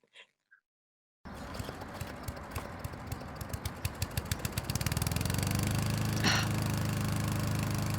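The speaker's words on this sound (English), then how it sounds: "Keep the lawnmower on your side of the lawn." A lawn mower engine starts up, chugging in a series of quick regular pulses before settling into a steady, continuous running drone, with no voices.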